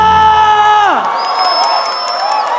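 A crowd in a Mobile Legends esports arena at an MPL Indonesia match cheers and shouts loudly. The cheering rises after a descending electronic tone and carries on under a sustained high synth note.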